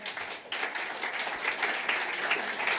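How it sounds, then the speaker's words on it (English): An audience claps together in a hall, a steady mid-level wash of applause lasting the whole stretch with no voices standing out. "Everybody clapped, so they knew what I said."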